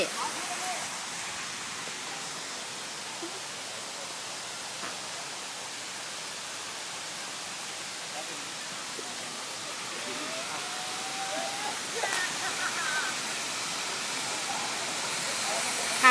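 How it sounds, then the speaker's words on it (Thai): Huay Mae Khamin waterfall in Kanchanaburi, Thailand, where children and teenagers play and jump on its tiers, gives a constant, full rushing roar that stays even throughout, with faint voices underneath. "ค่ะน้ำตกก็สวยงามมากทีเดียวนะคะ"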